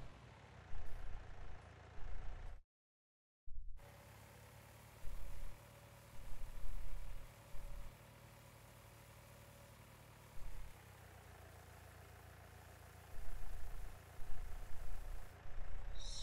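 Tractor engine in Farming Simulator 19 running steadily with a low, continuous rumble, broken by a brief cutout and repeated bursts of louder revving, heard alone without talk.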